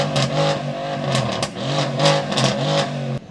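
Supercar engine at a car cruise on an F1 track, revving hard and bouncing repeatedly off a soft rev limiter, the pitch climbing and stuttering in several pulsing surges before cutting off abruptly, loud and close.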